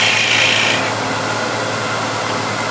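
A wood lathe with a parting tool taking a light scrape across spinning wood makes a steady, close rasping hiss that is a little stronger in the first moment, then settles into an even scraping.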